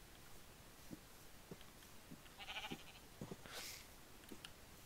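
Sheep in Minecraft bleat in a few short faint calls scattered over quiet game ambience, with soft clicks and taps between them.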